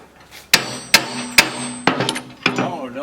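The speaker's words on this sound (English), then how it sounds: "Oh, don't be beating on the bolt." Hammer blows ring out on steel while a Piranha tooth bar is fitted to a Kubota B2601 tractor, five or six sharp, close strikes at uneven intervals with brief talk in between.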